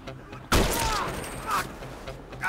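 Gunfire bursts out abruptly in a Rockstar action video game, a loud blast followed by sustained noisy shooting with whooshing effects, while a player talks over the chaos.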